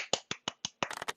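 One person on a podcast claps their hands in sharp, dry, close-up claps. Four evenly spaced claps are followed by a quicker flurry of several more.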